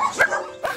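A dog at an animal shelter gives two sharp, close barks in quick succession, loud and alone.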